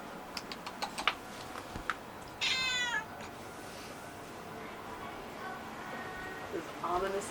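A cat in Katsushika, Tokyo gives a few drawn-out meows up close, with quiet keyboard-like clicks and brief soft talking around them.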